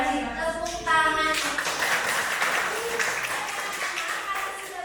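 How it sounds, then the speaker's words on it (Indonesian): A school class clapping hands at the end of a science lesson, a brief burst of claps rising near the start and then fading, with voices and background noise mixed in. "Tepuk tangan"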